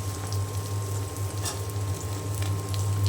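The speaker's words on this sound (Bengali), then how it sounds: "আমি এখানে যে ডিম ভেজে নিচ্ছি" An egg sizzles and fries steadily in a hot pan during home cooking, a continuous close crackle with a low steady hum underneath and no talking.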